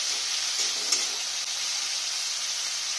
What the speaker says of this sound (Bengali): লাল লাল করে ভালো করে ভেজে নেব।